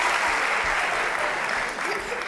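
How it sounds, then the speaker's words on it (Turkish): A talent-show audience applauds a contestant's entrance, producing dense, loud, continuous clapping that fills the hall for just over two seconds without letting up. "Alp, alkışlarla geliyor Alp Kırçan."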